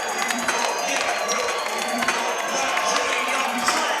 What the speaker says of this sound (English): This crowd is going insane.